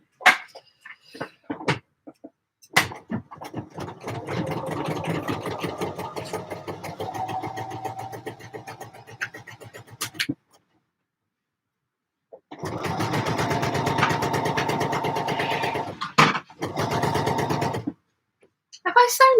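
A sewing machine stitches a French seam in two long, close bursts of rapid, steady mechanical whirring, separated by pauses with brief handling clicks and a few shorter runs near the end.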